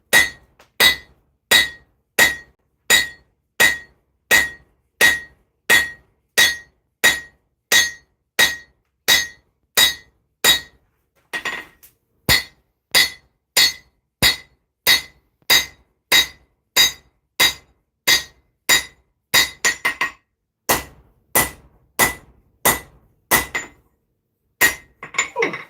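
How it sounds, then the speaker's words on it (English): Hammer blows ring on a hot steel mini sword blade as its edge is beveled on an anvil, a long run of loud, regular metallic strikes with a brief pause partway and a quicker flurry near the end. "And now we bevel."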